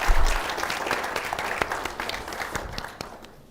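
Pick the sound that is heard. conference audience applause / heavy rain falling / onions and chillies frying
conference audience applause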